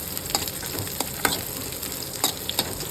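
Onions and chilies fry for an okra tamarind curry, a steady close sizzle broken by several sharp taps and scrapes of a stirring spoon against the pan.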